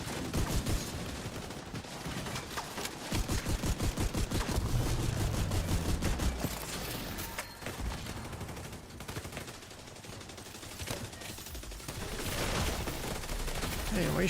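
Sustained automatic gunfire in The Division 2, loud and rhythmic bursts of rapid shots running almost continuously, with lighter scattered shots later and a voice speaking faintly in between.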